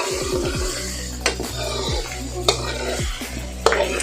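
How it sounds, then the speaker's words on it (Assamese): Duck curry with potatoes is stirred in a pot after water is added, a utensil scraping and knocking against the pot in repeated strokes over a steady simmering bubble, close and fairly loud, with no talk. "অলপ পানী দিছোঁ, পানী দি লাৰি দিছোঁ।"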